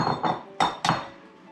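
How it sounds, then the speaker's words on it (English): Eggs go into a bowl, making three or four sharp, close clinks against hard crockery, spaced a few tenths of a second apart, then a short quiet tail. "We're going to put some eggs into the bowl."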